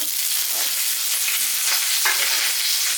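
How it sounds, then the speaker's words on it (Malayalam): Loud, hissing sizzle of leaves dropped into hot oil, a bright continuous crackle close by with no voices. "പിന്നെ നമുക്ക് 1-2 കറിവേപ്പിലയും കൂടെ ഇട്ട് കൊടുക്കാം"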